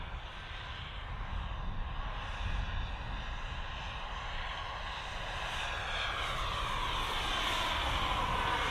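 A turbine-powered model jet flies at a model airshow, its steady roaring whine holding loud and continuous, with a rising and shifting tone as it passes through the air.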